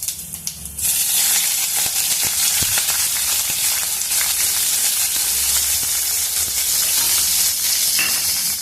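Hot oil sizzles in a pan while sambar is being made; after a brief quieter moment a loud, steady frying hiss bursts in and continues close up, dotted with sharp crackles.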